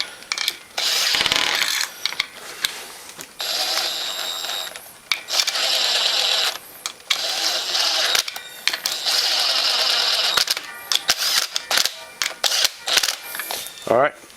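Ratcheting mechanical clicks from bolts being tightened down in a crisscross pattern on a Honda Fourtrax 300 ATV during a gear reduction install, coming in repeated loud close bursts with short pauses between them.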